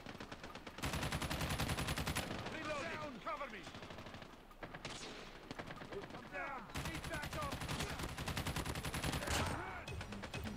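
Rapid automatic gunfire in the mobile shooter Call of Duty Mobile, loud sustained bursts with short pauses between them, with voices talking over the shooting.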